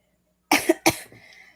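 Two sharp coughs in quick succession close to the microphone, followed by a short breathy rasp, in an otherwise quiet room.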